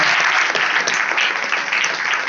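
A church congregation claps for the pastor in a short, loud, continuous burst of applause, close and steady throughout.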